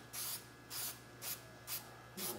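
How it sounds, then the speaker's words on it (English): A spray can lightly mists paint over a stencil on rear bumperettes in short bursts, five soft hissing puffs in about two seconds with brief pauses between them, close and fairly quiet. "And we'll just lightly mist over this."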